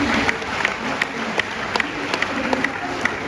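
Audience applause in a college auditorium at a postmen's workshop, steady crowd clapping with scattered sharper claps throughout, moderately loud and even.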